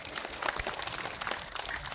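Children clapping for an achievement, a dense steady patter of applause from a small group, fairly close, lasting the whole short stretch.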